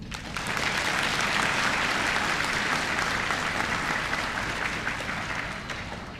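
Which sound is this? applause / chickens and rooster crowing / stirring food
applause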